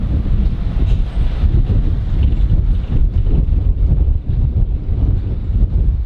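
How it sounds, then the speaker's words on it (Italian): Cold wind blowing across the Vallelunga race track, a loud, steady roaring rush buffeting a nearby microphone with low rumbling gusts throughout and no voices. "C'è un vento freddo"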